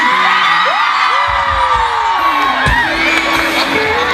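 A crowd of women in an audience at an outdoor stage show in Labolong, Pinrang, shouts, whoops and cheers loudly and continuously, with rising high-pitched yells overlapping throughout.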